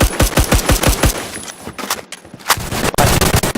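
Rapid .50 cal rifle gunfire in the shooter game Phantom Forces, a quick burst of sharp reports in the first second and a half, then a few more spaced shots, loud and close with no talk.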